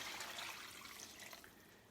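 Filtered water pouring into an Instant Pot for bone broth, a quiet continuous splashing hiss that fades slightly toward the end, no talking.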